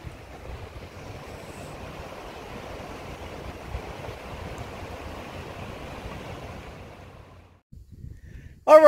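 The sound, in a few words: river ambience with flowing water and wind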